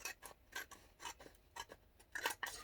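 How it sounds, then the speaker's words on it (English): Scissors snip through a book page with soft, quick crisp cuts and rustling paper, repeated irregularly at close range with no talk. "I wish I had a bigger pair of scissors"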